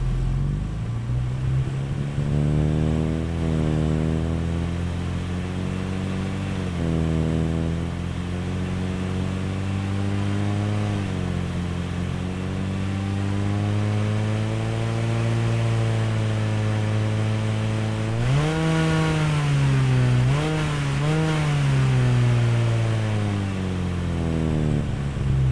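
Synthesized vehicle engine sounds generated in Krotos Studio Pro, a steady engine drone with rising and falling pitch that mimics revving and manual gear changes, played alone at moderate level.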